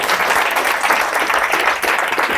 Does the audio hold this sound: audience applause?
yes